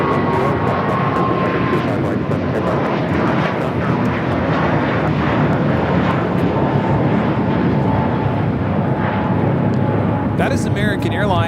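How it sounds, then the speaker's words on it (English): An American Airlines Airbus A321 jet takes off at Los Angeles airport bound for JFK, a loud, close, continuous engine roar that holds steady throughout, with voices faintly beneath it. "That is American Airlines 238 taking off the JFK on the A321."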